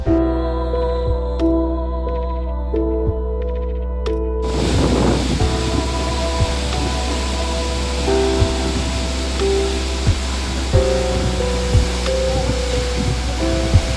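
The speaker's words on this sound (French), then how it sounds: "Je viens tout juste d'arriver sur le site de Seljalandsfoss, une des cascades les plus connues d'Islande" A steady roar of the Seljalandsfoss waterfall in Iceland fills the scene, a broad constant rush with faint tonal hum in the first few seconds and occasional small knocks.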